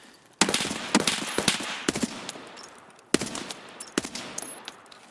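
Rapid bursts of automatic gunfire in Escape From Tarkov, aimed at a scav on the Shoreline map, loud and close, with several clustered volleys separated by short pauses.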